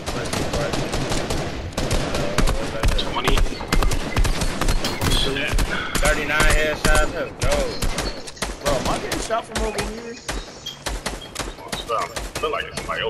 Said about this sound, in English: Oh, they shooting at him too.